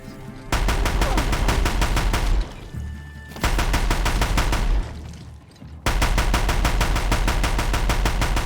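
Minigun fire in the video game Horizon Zero Dawn, loud rapid sustained bursts of gunfire in three long volleys separated by brief pauses, with no talking.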